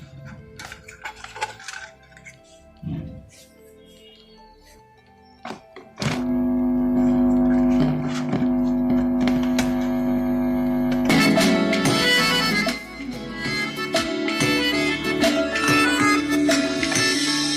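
Quiet clatter and a few knocks, then loud music with a steady beat kicks in through a speaker driven by a 4440 IC audio amplifier, getting fuller and brighter partway through.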